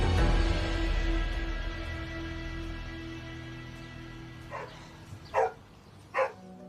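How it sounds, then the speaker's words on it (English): Angry dog barking inside a house, three sharp barks near the end, muffled and somewhat distant after a low steady hum. "No one appears to be home, except an angry-sounding dog."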